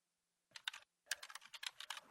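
Quiet clicking of keys on a computer keyboard: a short burst of a few strokes, a pause, then a longer run of quick, uneven taps, close and alone.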